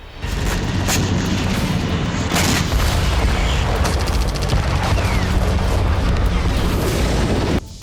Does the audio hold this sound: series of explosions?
yes